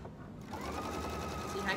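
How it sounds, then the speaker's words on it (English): A sewing machine stitches steadily over plastic sewing clips while making a market bag, a close, continuous mechanical whir with a faint rise near the end and some background voice. "See how I can sew right over that?"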